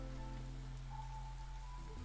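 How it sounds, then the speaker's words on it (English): Steady, soft patter of drizzle falling in the Against the Storm video game, a continuous even wash with faint musical tones humming underneath. "We're in drizzle at the moment."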